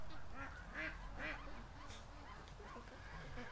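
Ducks quack repeatedly in a farmyard, a few calls standing out over a steady background of other birds and faint voices nearby.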